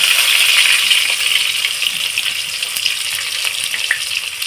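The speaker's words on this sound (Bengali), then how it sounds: "তারপরে আমি কেটে রাখা পেঁয়াজগুলো এর মধ্যে দিয়ে দিলাম" Chopped onions fry in a pan for a Bengali mocha chingri dish, a bright continuous sizzle with scattered pops and crackles, close and fairly loud throughout.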